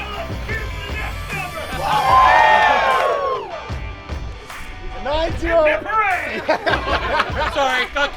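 People at a Mustang Week car show giveaway cheering and yelling in a loud burst, then breaking into scattered shouts, laughter and chatter.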